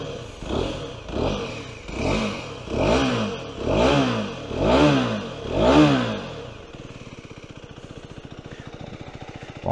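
A small 125cc F.B Mondial HPS Ubbiali motorcycle engine revs six times in a steady rising-and-falling rhythm, then settles into a fast, even idle.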